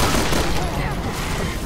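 Rapid assault rifle fire in the Resident Evil video game, a dense continuous burst of loud shots over a busy game soundscape.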